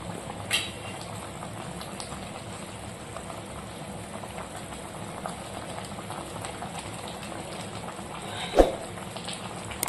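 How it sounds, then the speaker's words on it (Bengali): A Bengali kofta curry of bhetki fish and cabbage dumplings boils steadily in a pan, giving a continuous bubbling, simmering hiss with an occasional louder pop, close and alone. "ভালো করে ফুটে গেছে।"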